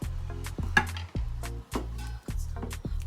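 Gambian benachin (jollof rice) is stirred in a pot with a utensil, making repeated close scraping strokes against a steady sizzle. No one is speaking.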